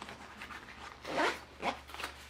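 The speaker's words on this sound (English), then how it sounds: "Zipper goes up." The zipper of a new Sidi Aria Gore-Tex motorcycle boot pulled up, giving two quick rasping zips close by, the first longer and louder, with no talking.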